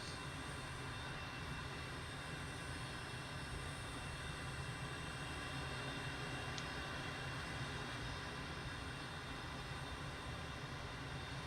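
An M-346 jet taxiing in Microsoft Flight Simulator, a steady, even engine hum and whine that holds at one level with no change and no voices.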